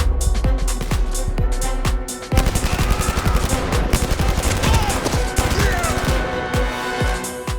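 Automatic weapon fire from the VR shooter Blood & Truth, loud and close, with rapid bursts and dense sustained rattling volleys, no talking over it.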